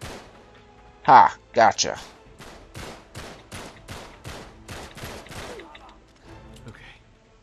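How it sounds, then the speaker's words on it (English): Bursts of gunfire in Uncharted 3: Drake's Deception, two loud blasts early followed by a rhythmic run of sharp shots, with a player's exclamations over the top. "That took a lot of bullets. I keep shooting behind him."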